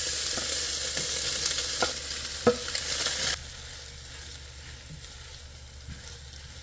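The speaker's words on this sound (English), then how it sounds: "I'm heating a little oil in my wok over medium heat and tossing in those Spam pieces. We want to fry them slowly until they are golden." Spam pieces frying in a little oil in a wok over medium heat make a bright continuous sizzle with a few stirring knocks, then the hiss drops sharply to a quieter crackle.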